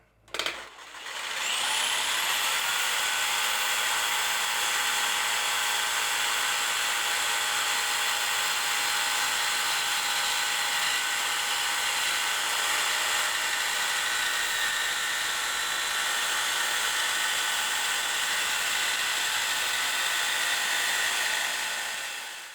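Power tool cutting a slot in a wooden shim and wedge cutting jig, a steady high-pitched whine that runs continuously and loud after a brief start-up.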